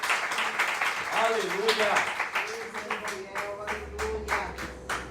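A church congregation claps during a worship service, the brisk, rhythmic clapping mixed with loud voices calling out and singing over it.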